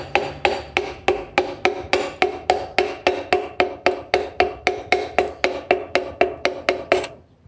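A hammer handle taps a lubricated piston down into the cylinder of a GM 2.0 16v engine, with about twenty-five evenly spaced, sharp knocks in a steady rhythm, close and loud, with no talking.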